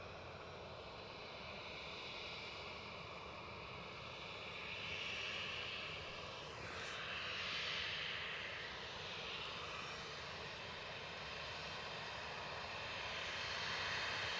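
The steady, distant roar of a Boeing Dreamliner airliner's jet engines as it moves on the ground at Edinburgh Airport, slowly swelling and easing with no voices.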